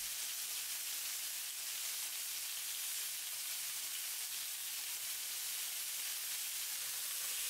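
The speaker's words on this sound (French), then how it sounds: "Je laisse griller pendant 1 minute." Beef lemongrass skewers sizzle on a hot grill, a steady, even crackling hiss that holds close and constant throughout with no voices.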